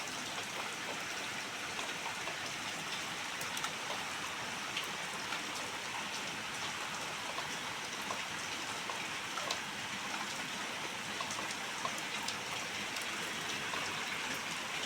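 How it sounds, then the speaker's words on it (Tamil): Heavy rain pours down steadily in a dense, unbroken hiss with no let-up, loud and close, with no voices heard. "செம்ம மழை"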